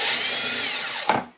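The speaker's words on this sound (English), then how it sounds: "Drill a 1/8 hole right through the case." A 1/8 inch bit drills a pilot hole straight through a Milwaukee Packout plastic case, a close, steady, high-pitched whir that ends with a brief crunching burst as the bit breaks through, then falls quiet.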